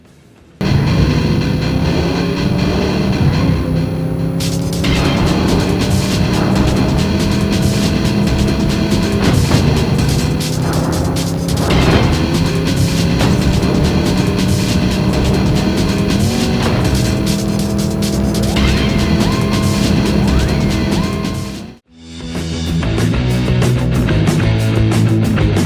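A 1999 Plymouth Prowler retro hot-rod convertible races through Cruis'n Exotica, its engine droning steadily with rising and falling pitch across gear shifts, tire squeals mixed in, loud and continuous, with a brief cut near the end before the engine resumes.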